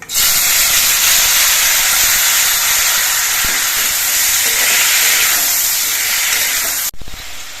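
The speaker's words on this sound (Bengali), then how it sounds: "এবার এর মধ্যে টমেটো গুলো দিয়ে দিচ্ছি" Loud, steady hiss of tomatoes frying in hot oil for tomato chutney, a dense sizzle filling the whole clip before cutting off abruptly near the end.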